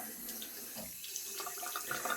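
Water runs steadily from a tap while hands are rinsed at a sink, a continuous close splashing with small shifts as the hands move under the stream.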